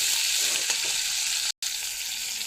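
Tomatoes and green chilies fry in hot oil for a Bengali cauliflower-potato bhorta, a steady close sizzle with faint stirring scrapes and a momentary cut in the middle.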